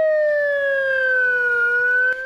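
Wailing ambulance siren heard at an FSB training exercise, loud and close, a steady two-tone harmonic wail sliding slowly in pitch across the whole stretch, with no talk over it.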